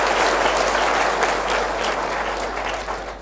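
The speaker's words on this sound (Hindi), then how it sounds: "जोरदार तालियां बजा दो आपके साथ।" A large crowd at a political party workers' convention applauds loudly and steadily, a dense wash of clapping that fades slightly toward the end.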